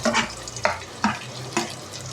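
Sliced onions and green chilies with mace frying in a pan, a low steady sizzle broken by four distinct scraping stirs of a spatula at roughly even intervals, close and fairly quiet.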